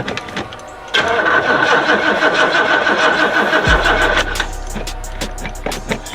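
A 1987 Oldsmobile Cutlass that has sat unused for 25 years cranks loudly in a sustained, rapid starter whir, then drops into a deeper rumbling hum near the end, close up and without any talking.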